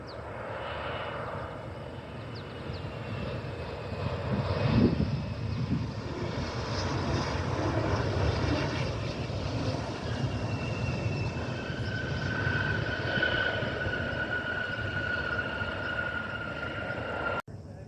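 An American Eagle CRJ 900 jet comes in toward Cleveland Hopkins International Airport, a broad engine roar that swells and holds steadily with a rising whine and a sharp click at the end.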